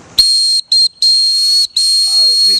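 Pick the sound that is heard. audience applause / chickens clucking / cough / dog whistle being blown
dog whistle being blown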